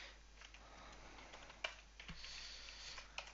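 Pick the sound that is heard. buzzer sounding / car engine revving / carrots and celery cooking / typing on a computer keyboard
typing on a computer keyboard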